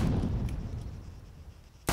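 Video game combat simulation gunfire: heavy booming shots roll out at the start and fade, then one sharp, close shot cracks near the end, with no talking.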